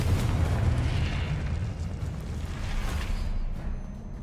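Confringo fire spell explosions in Hogwarts Legacy on PS5, a dense rumbling boom with crackling bursts that stays loud and sustained throughout, fading slightly toward the end.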